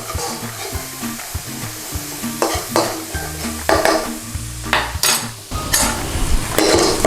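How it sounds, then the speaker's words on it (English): Garlic and methi frying in a pan for a British Indian restaurant chicken rogan josh, with loud close sizzling and quick scraping stirs and clanks of a utensil against the metal pan. "Get the garlic in there, give it a quick stir around, and then in with a good pinch of methi."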